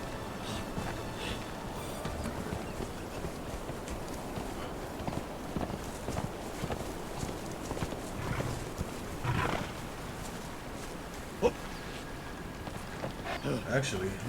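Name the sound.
horse hooves from a video game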